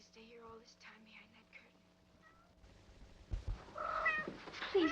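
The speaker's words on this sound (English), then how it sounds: "My poor kitties." Cats meowing in short, faint cries at first, then louder, higher yowls building toward the end, with soft whispering nearby in a quiet 1940s interior.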